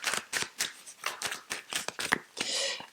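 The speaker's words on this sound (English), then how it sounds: "Okay, one more shuffle." Tarot cards being shuffled by hand, a quick run of crisp papery riffles and flutters in an uneven rhythm, close and fairly quiet, with no voices.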